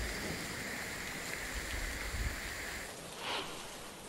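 Heavy monsoon rain pours down in Sindhudurg, Maharashtra, a dense steady hiss of falling water close by, with no voices.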